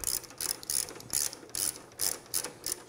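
A ratchet clicks in quick repeated bursts, about eight strokes, as bolts are snugged up during installation of a motorcycle hammock rack, up close and with no talking.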